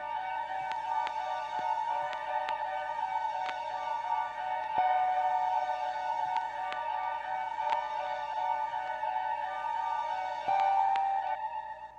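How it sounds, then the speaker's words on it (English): Boom bap beat built in Ableton with strings and organ, a sustained, textured chordal pad with faint rhythmic clicks and hits underneath, fairly quiet and continuous with no voices. "So with the strings and the organ that I have, it sounds like this."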